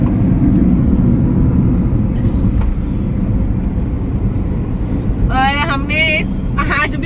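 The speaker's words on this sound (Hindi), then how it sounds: "ट्रैफिक बहुत ज्यादा है आज, संडे है ना" Road traffic on a busy Sunday heard from inside a moving car, a loud steady engine and road rumble throughout with a horn honking twice near the end.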